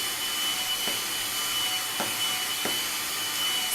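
A handheld hair dryer runs on its low setting with a steady airy whoosh and a thin high whine, constant and close, interrupted by a few faint clicks from a comb moving through natural hair.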